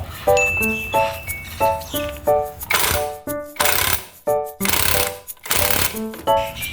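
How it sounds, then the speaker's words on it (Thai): An impact wrench hammers nuts tight on a Honda PCX scooter's belt drive, firing loud, rattling bursts in quick succession with short gaps between them, close up and without voices. "ใช้บล็อกยิงเลย"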